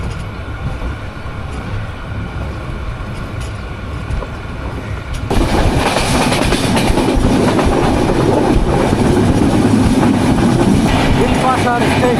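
A Drutojan express train from Panchagarh passes close by on a Bangladesh railway, arriving as a loud, steady rumble with rhythmic clickety-clack of wheels over rail joints, after a quieter stretch of background noise.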